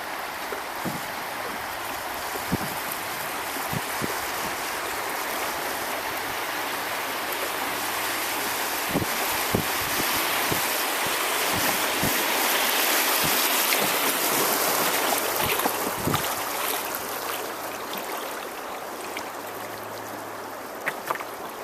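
Broad River water rushes steadily over a rocky drop in a forested setting, a broad continuous roar with scattered splashes and knocks, near and fairly loud.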